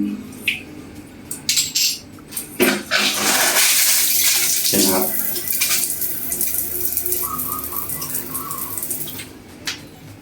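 After a few metallic clanks as the valve opens, water bursts from a dripping shower head into a steady, loud hiss, continuing with a faint chirp near the end.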